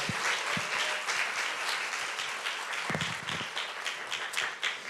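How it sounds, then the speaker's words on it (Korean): A church congregation gives warm applause to welcome a visiting pastor to the stage, a full, sustained round of clapping from a large crowd that stays loud throughout. "우리 뜨거운 우리 박수로 환영하도록 하겠습니다"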